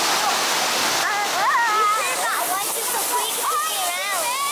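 A loud waterfall at the Waterworld water park pours in a constant rushing hiss, with excited children's voices and chatter carrying over the steady roar throughout.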